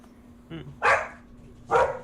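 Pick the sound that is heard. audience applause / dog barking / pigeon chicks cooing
dog barking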